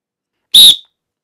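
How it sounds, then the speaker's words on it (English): A lifeguard whistle gives one short, shrill blast that stops cleanly, alone in silence. "today I'm going to demonstrate to you how to properly blow a whistle"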